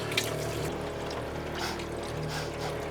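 Water runs and trickles steadily from a boat's water tank over a low mechanical hum, a continuous draining flow with no talking.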